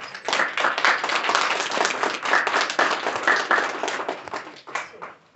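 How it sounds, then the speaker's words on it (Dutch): Warm applause from a lecture audience greeting a village captain as speaker, many hands clapping close and steadily, then tapering off at the end. "Applaus"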